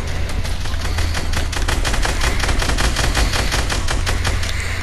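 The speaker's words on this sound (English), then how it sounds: "Just start shooting him." Rapid automatic gunfire in the video game Fortnite, a dense, loud, evenly spaced stream of shots continuing nearly unbroken throughout.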